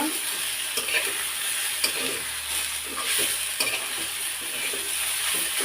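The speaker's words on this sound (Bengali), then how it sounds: "তেলটা দিয়ে অল্প হাতে একটু নেড়ে করে নেব" Fresh water spinach stir-fries in hot oil with a loud, close sizzle, broken by irregular scraping and stirring strokes of a utensil against the pan throughout, with no talking.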